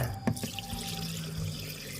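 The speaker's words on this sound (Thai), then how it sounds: "แล้วก็นำข้าวไปล้างทำความสะอาดนะคะ หรือว่ากาวข้าวตามปกติเลยค่ะ" Rice is washed in a pot of water, with close, steady swishing and trickling, a few clunks of grains and the pot at the start, and a continuous watery wash with no talking.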